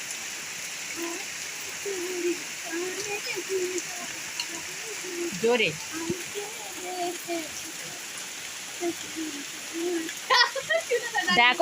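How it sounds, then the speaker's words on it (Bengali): Steady rain falls outdoors during a Rath Yatra festival outing, a constant broadband hiss running through the whole stretch while people talk over it. "বন্ধুরা বৃষ্টি হচ্ছে"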